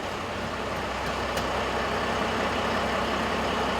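A diesel truck engine idles steadily after a DPF cleaning, producing a constant low rumble and hum at moderate volume, with no talk.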